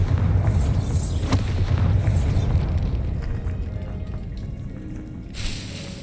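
Bombarda blast spell in Hogwarts Legacy, a loud deep booming explosion that rumbles and slowly decays over several seconds, with a brief higher burst near the end.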